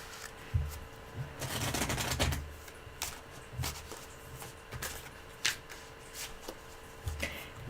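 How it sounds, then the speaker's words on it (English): Tarot cards being shuffled by hand, with bursts of riffling and soft slaps of the deck in uneven spurts. The sound is close and fairly quiet, with no talk over it. "I'm shuffling away."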